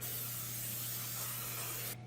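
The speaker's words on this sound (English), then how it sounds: "I'm going to spray with a little bit of cooking spray" A steady, close aerosol spray hisses for about two seconds without a break, then cuts off abruptly.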